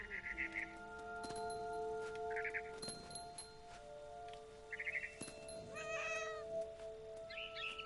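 A cat meows repeatedly in short, bright calls spaced across the scene, heard over soft background tones and occasional clinks and other effects in a story.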